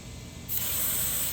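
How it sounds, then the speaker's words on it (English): Aerosol penetrant sprayed onto rubber exhaust hangers on a 2016 Dodge Charger R/T 5.7L Hemi: a close, steady hiss starts partway in and continues evenly to the end. "So we're going to spray this down and try to push it off of here."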